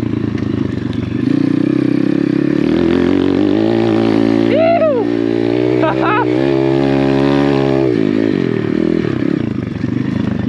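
An Apollo RFZ pit bike rides along a dirt trail, its engine droning steadily and close throughout while a rider talks briefly over it.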